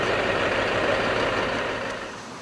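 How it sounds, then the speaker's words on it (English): A fire engine crawling slowly along a highway while its crew wets the ground with hose lines, a steady low rumbling engine drone that holds loud and then eases off slightly at the end. "Engine 9's crew slowly drives along the highway above, using their red hose lines to keep the ground wet"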